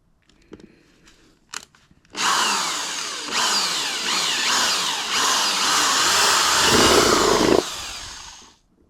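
After a few quiet clicks, a power drill revs up and runs continuously for several seconds, its pitch shifting as it bores, then stops abruptly.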